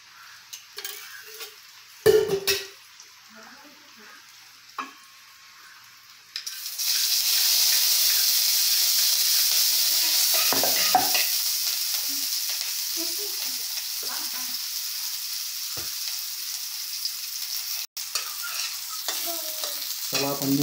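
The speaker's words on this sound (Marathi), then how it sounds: "चला आपण मिरची तळून घेऊ।" Green chilies frying in hot oil in a pan while egg bhurji is made: a few stirring clatters, then a loud steady sizzle comes in partway and keeps going, with occasional scrapes in it.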